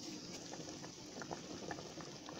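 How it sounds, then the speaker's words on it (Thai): Sour Thai fish curry with fish pieces bubbles in a pot, a soft, low continuous boil with small blips and pops, faint and close. "ตอนนี้แกงของเราก็เดือดจนได้ที่แล้วนะคะ"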